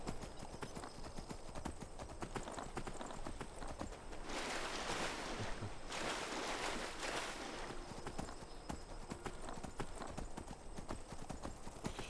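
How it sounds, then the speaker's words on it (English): Hooves clip-clop in a steady, quick rhythm as a horse moves along in the video game Skyrim, with a brief rushing swell of noise in the middle. "you can just hop on the horse and go"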